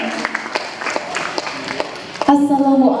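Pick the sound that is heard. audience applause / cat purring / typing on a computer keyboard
audience applause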